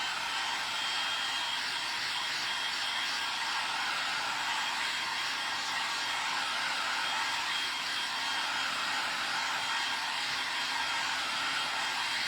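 Hair dryer blowing steadily on wet paint, a loud continuous broadband whoosh held without pause throughout, no voices over it.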